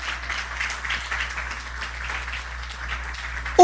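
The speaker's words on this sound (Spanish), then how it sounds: "Dele un aplauso al Señor por la misericordia del Señor" A church congregation applauds during a Sunday service, making a steady wash of clapping at moderate loudness that holds throughout, ending in a short, sharp tone at the very end.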